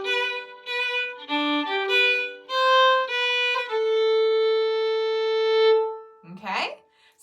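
Opening phrase of the Celtic tune Shoe the Donkey, played at a beginner's pace as a clear melodic line of distinct, steady notes ending on a long held tone, followed by a brief noisy handling sound.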